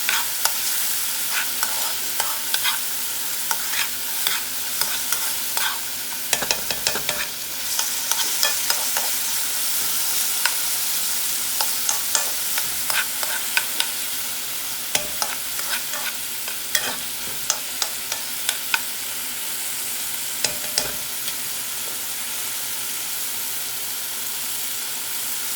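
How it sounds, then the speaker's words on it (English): Food sizzles steadily in avocado oil in a pan for a beef pasta dinner, with a constant hiss broken by frequent small crackles and pops and occasional stirring scrapes. "Just gonna allow that avocado oil to cook those down."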